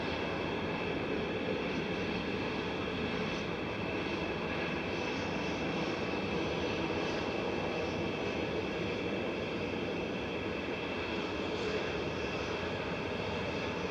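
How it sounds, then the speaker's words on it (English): A heavy airliner departs Manchester Airport, giving a steady, fairly distant engine roar and rumble that holds even throughout with no voices over it. "We're going to have our first heavy departure."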